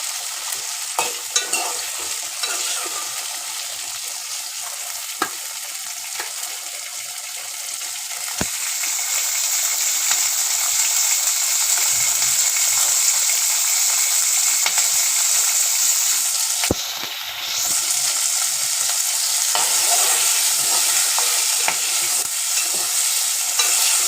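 Ingredients for tomato chutney frying in a pan, a steady broadband sizzle that runs the whole time and swells louder partway through, with occasional stirring clicks and no voices.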